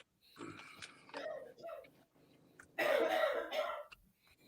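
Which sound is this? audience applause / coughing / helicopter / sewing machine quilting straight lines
coughing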